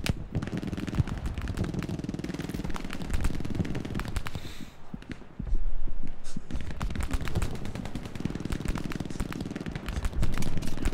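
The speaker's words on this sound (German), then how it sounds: "Der ist nah am Himmel explodiert." Rapid machine-gun bursts and rifle fire crackle almost nonstop in a Hell Let Loose battle, with a heavy explosion thumping in midway, everything loud and close.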